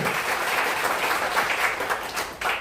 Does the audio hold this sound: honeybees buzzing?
no